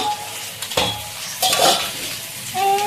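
Chicken liver frying in a pan as its water cooks off, giving a close, continuous sizzle broken by a few sharp scrapes of a spoon stirring against the pan.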